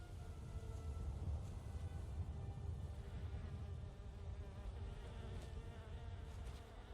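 A low, steady insect drone from bees swarming around a beehive in Skyrim, a continuous buzzing hum that holds at an even level throughout, with faint ambient wilderness sounds beneath.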